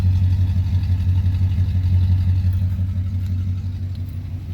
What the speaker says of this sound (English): She got a nice exhaust note.